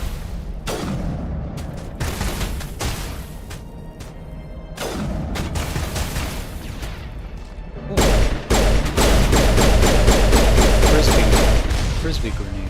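Explosions and rapid gunfire from the Mass Effect video game, heavy booming blasts and dense bursts of shots that build to a loud, sustained volley near the end, with talk over parts of it.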